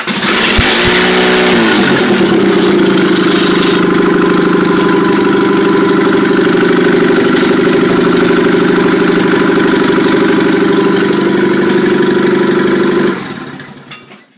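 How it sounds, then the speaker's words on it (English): A loud, close engine running alone on a stand after being pulled from a car, starting with a few rough cranks and then idling steadily and noisily with a knocking edge before cutting off near the end. "I'll start this up just to prove that this will still run."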